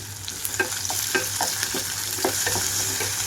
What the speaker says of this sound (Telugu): మీడియం ఫ్లేమ్లో ఉంచి వేయించుకుంటున్నాను ఉల్లిపాయలు